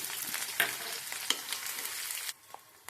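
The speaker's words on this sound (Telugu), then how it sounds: "అన్ని రకాల పోపు గింజలు అయితే వేసుకుందాం" Mustard and other tempering seeds sizzle and crackle in hot oil at the start of a chana dal and purslane curry, a dense close hiss with a few sharp pops that cuts off abruptly near the end.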